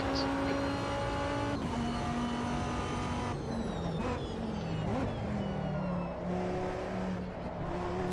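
A 2005-era endurance race car engine in Automobilista 2 drones loudly and continuously, its pitch climbing and dropping through gear changes and corners, with brief tyre scrubs.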